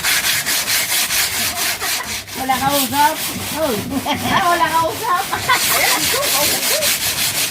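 Hand sanding with sandpaper on a wooden door ahead of painting: steady, rapid rasping strokes, loud and close, while people talk over the scraping.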